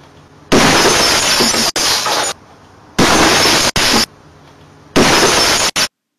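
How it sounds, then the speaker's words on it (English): Vacuum tube TV screen imploding with shattering glass: three loud, abrupt crashing bursts, each ending in sharp cracks, separated by short near-silent gaps. "if you were to break such a high vacuum screen, the whole thing would implode"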